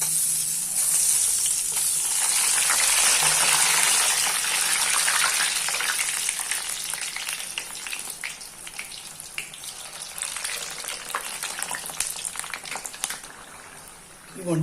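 Milk butter murukulu fry in hot oil with a loud, steady sizzle that slowly eases into crackling bubbles, and faint voices are heard over it.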